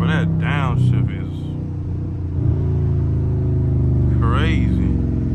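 A Dodge Charger Scat Pack's V8 rumbles loudly and close while drifting, its revs jumping sharply at a downshift partway through, with voices talking over the engine.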